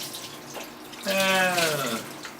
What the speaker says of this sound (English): I'm going to go ahead and rinse each one of these clamps